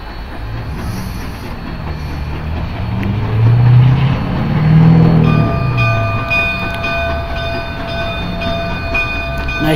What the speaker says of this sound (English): Here comes a train. The 44 is coming back from the Y.